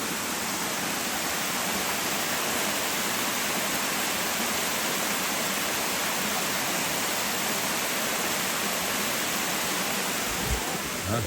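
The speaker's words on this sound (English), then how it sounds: "Just listen to the water for a minute." Water pours steadily over Helton Creek Falls near Blairsville, Georgia, a constant, dense, full roar of rushing flow with no break, heard close and alone.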